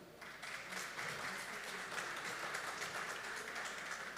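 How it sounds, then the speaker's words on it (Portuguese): An audience at a wine and oak barrel talk applauds in a steady, even round of clapping that sounds moderately distant, with no break for the whole stretch. "uma salva de palmas para Sébastien Villard."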